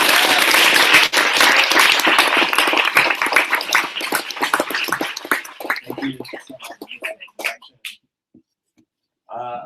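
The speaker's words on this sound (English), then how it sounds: "let's clap, the hardest we've ever clapped yet for Adam" An audience applauds lecturer Adam J. Kurtz, with loud, dense clapping that thins into scattered claps and fades to silence before a voice begins speaking at the end.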